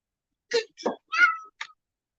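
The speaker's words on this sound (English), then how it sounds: "And the cats are acting crazy." Several short cat meows, four brief calls spaced out over about a second, fairly close and clear with silence between them.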